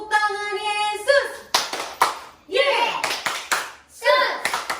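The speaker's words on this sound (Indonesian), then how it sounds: "Tepuk tangan Yesus." Children's online worship service with clapping in a few sharp rhythmic bursts, alternating with sung or chanted voices and a sustained tone at the start.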